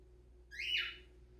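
One of the family's pet birds lets out a single sharp whistle that rises and then falls, brief, loud and close, set against a quiet room with a low electrical hum.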